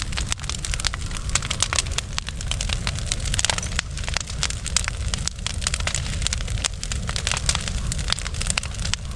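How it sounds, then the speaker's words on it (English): A hot fire burns through a tree stump outdoors, a steady dense roar with constant crackling and popping throughout, loud and close, with no voices. "That stump is getting burnt. That's a hot fire."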